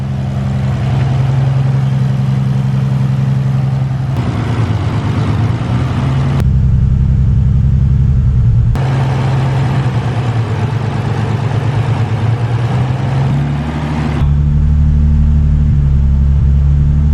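A Nissan 300ZX Z32 that sat for two years, its engine idling loudly and close with a steady, slightly uneven rumble and slight shifts in tone, no voices over it.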